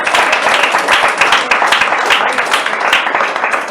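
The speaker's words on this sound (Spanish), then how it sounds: "¿Cuántos le pueden dar un aplauso al Señor por la vida de sus hijos?" Church congregation clapping together during a worship service, a dense, loud burst of applause filling the room steadily throughout with no talk over it.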